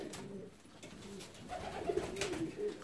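A young male Siberian-breed pigeon coos in an aviary, soft low throaty coos repeating over faint background noise, close and quiet, with no talking.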